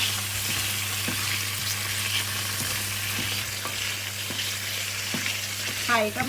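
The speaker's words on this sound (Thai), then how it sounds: "ก็ผัดไข่ด้วยจ้ะ" Eggs stir-fried in a hot pan sizzle loudly and steadily, with regular scraping taps of a spatula against the pan, close and with no talking.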